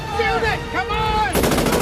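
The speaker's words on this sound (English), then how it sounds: "They're shooting at us!" Rapid gunfire bursts from a film scene, loud and sustained, with shouted voices and whooshing effects in the first part before a dense volley of shots takes over.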